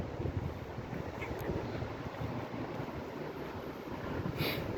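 Wind rushes past the microphone beside a highway, a faint steady blustery rumble with no talking.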